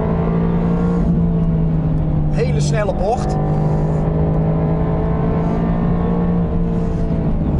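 A 2019 Mercedes-AMG GT R Pro runs on a race track with its seven-speed gearbox, a steady loud engine drone holding through a fast corner while someone talks over it.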